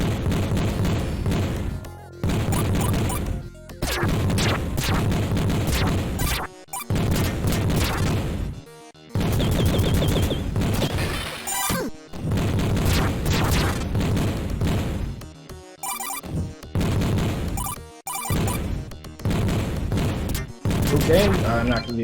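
Shotgun blasts fire again and again in the Vectorman video game. The loud bursts come in clustered runs split by short silences, together with crashes and booms from the game.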